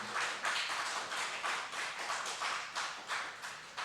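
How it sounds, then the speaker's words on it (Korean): A church congregation at a Friday worship service claps in a steady rhythm, brisk bursts repeating about twice a second. "여러분 큰 박수로 좀 환영해 주시면 감사하겠습니다"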